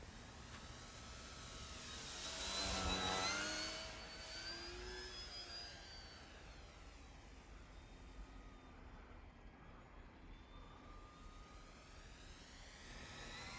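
An E-flite Turbo Timber Evolution RC airplane flies overhead, its electric motor whine swelling as it passes close, then settling into a steady, fainter drone as it climbs into a stall turn.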